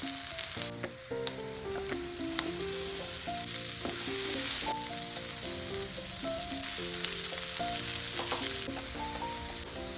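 Okra and green chillies fry in a pan with a steady, close sizzle and occasional stirring that runs for the full stretch, while a melodic music track plays underneath.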